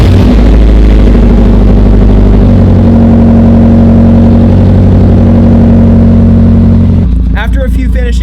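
A Mazda Miata engine cranks and catches, then settles into a loud, steady idle with a throbbing low rumble that holds for several seconds before dropping away as a voice begins speaking.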